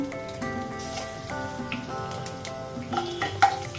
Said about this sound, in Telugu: ఈ పప్పులు మంచిగా ఫ్రై అయ్యే వరకు ఫ్రై చేసుకోవాలి